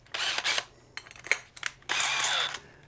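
A power drill spinning a drywall mud mixer paddle whirs in several short bursts with pauses between, ending in a longer sustained run, close by and fairly loud.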